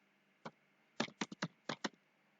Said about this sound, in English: I'll type the options over here.